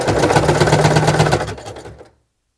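A sewing machine stitches a seam on a blouse with a fast, steady mechanical whir up close, then slows and stops near the end.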